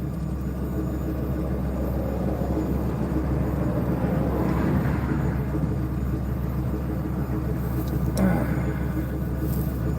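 A service truck's diesel engine runs at idle nearby, a steady low rumble throughout, while someone talks over it and a brief clank sounds near the end.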